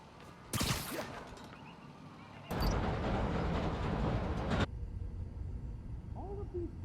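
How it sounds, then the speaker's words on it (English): A train rushes past in the Spider-Man: Miles Morales game, a loud burst of rattling rumble that cuts in abruptly, roars for a couple of seconds and drops to quieter city ambience with faint birdlike chirps. "It's the train."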